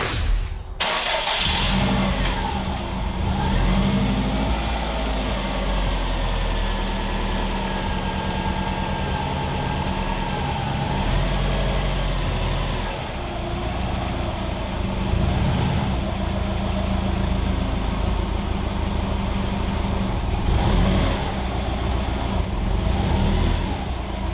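Subaru Impreza WRX STi Prodrive blobeye running as the car is driven inside, a steady, loud engine drone with idle and light revving throughout, close by and with no voices.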